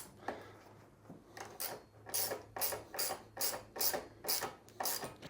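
A 5mm Allen hex ratchet tightens the bolts on a PMR luggage rack for a KLX 300 motorcycle. Quiet, close-up pawl clicks come in a steady series of about eight ratcheting strokes.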